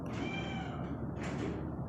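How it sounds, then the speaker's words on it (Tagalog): A hairless cat from America meows twice, close and clear, the calls drawn out with a short pause between them, over a steady low background hum. "Meron pala sa Amerika ng mga pusa na walang buhok."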